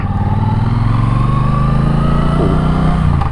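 A Triumph Bonneville Bobber 1200 motorcycle engine drones steadily while riding, a loud, even mid-low hum with a slight rise in pitch toward the end, alone without talk.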